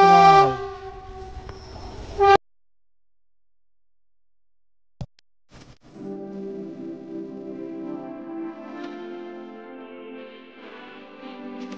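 A train arriving at Panskura station, with a loud sustained horn blast, a pause of quiet with a couple of clacks, then a steady rumbling, droning roll of the train that continues to the end; no speech.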